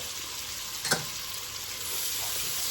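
Onion cooking in a pan with dried thyme, black pepper and salt, a steady soft sizzle with one brief stirring scrape near the start.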